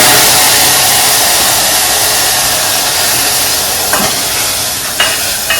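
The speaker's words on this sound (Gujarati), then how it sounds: "વઘાર થઈ ગયો છે એટલે થોડીક દાળામાં નાખી દઈએ" Hot tempering poured into dal bursts into a loud, steady, close hiss of sizzling that fades slightly, with a couple of light spoon or pot knocks near the end.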